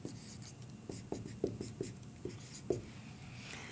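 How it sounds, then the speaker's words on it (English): Marker or chalk strokes on a classroom board, a quiet run of about eight short scratchy taps and strokes spaced irregularly across a few seconds, close and fairly soft. "Let me write it here."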